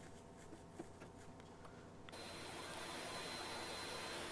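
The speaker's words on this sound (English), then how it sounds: "Pre-drilling the holes." A drill pre-drilling screw holes in the wooden door of a floor-standing cabinet humidor, starting up abruptly partway through as a steady, loud whirring hum that carries on unbroken, after a quieter stretch of faint workshop noises.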